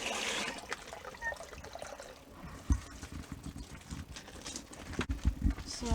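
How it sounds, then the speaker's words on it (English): Water poured onto a backyard compost bin, irregular splashes and trickles with a few sharper thuds, close and fairly quiet against faint background noise. "Now we're going to add water on it."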